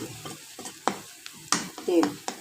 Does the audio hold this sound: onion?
yes